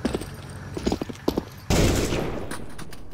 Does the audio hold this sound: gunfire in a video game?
yes